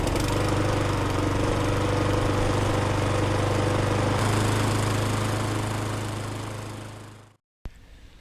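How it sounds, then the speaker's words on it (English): A Mountfield lawnmower engine runs at a steady drone, close and loud, then winds down and cuts out near the end, leaving a brief silence before a short thump. "let's check out one of his MOUNTFIELD lawnmowers"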